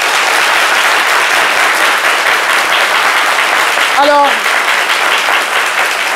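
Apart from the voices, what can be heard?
audience applauding for Chantal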